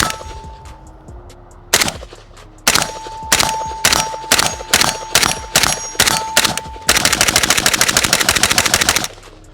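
AK rifle firing Polish GROM ammunition outdoors, loud close single shots in a spaced rhythm, then a fast string of rapid fire, with a faint ringing tone between shots and no talking.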